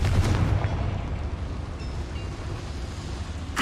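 A Confringo blasting spell goes off in Hogwarts Legacy inside a small mine, a loud, booming burst that rumbles on as a dense, sustained roar for several seconds, with a sharper crack near the end.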